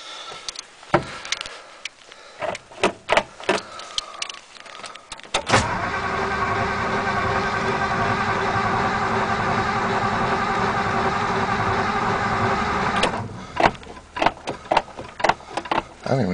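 A 1954 Ford Mainline engine catches after a cold start and idles steadily for several seconds, preceded and followed by sharp mechanical clicks and clunks around the car.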